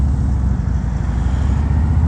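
A 2019 Harley-Davidson Road Glide Special rumbles along on a test ride, with a steady low engine drone and road noise, loud and continuous.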